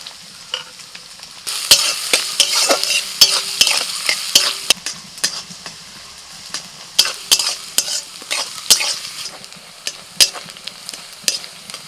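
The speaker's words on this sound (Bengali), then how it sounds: "দিচ্ছি গ্রেট করা আদা এবার দিয়ে দিচ্ছি পেঁয়াজ কুচি" Chopped onion and grated ginger hitting hot oil in a pan, with a loud close sizzle and a quick run of sharp scraping spatula strokes that keep stirring throughout.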